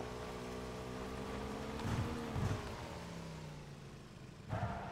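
Motorcycle engine in the video game PUBG hums faintly with a steady tone that dips and rises under a few soft thumps, and a short bump in level comes near the end.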